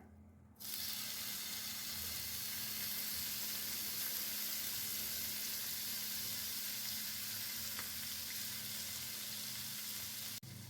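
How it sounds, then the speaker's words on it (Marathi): Paneer pieces fry in hot oil in a pan, a steady broadband sizzle that starts abruptly and holds evenly and fairly close for about ten seconds, with no talking. "गॅसची फ्लेम लोच ठेवून हे पनीर तेलामध्ये दोन ते तीन मिनटं चांगले परतून घेऊया"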